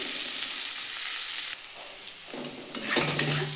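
Spice paste for a bata fish curry being stir-fried in a pan, a soft sizzle with scraping stirring strokes, quiet at first then louder bursts of frying near the end.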